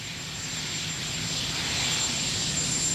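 Presidential helicopter running on the ground, a steady turbine whine with a thin high tone over a broad engine roar, loud and close, gradually swelling slightly, no talking.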